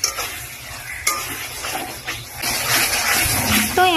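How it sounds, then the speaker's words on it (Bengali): Spice mixture with cardamom frying in a pan, a steady sizzle with intermittent stirring scrapes throughout, fairly close and moderately loud, with no talking. "তো এখন আমি মশলাটাকে ভেজে নিচ্ছি"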